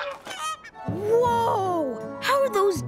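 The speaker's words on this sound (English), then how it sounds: "That's not their snow sculpture honking. Look, it's geese flying south for the winter." Cartoon geese honk as a flock flies south for the winter in a V formation, a few nasal calls rising over a busy animated soundtrack with voices and music.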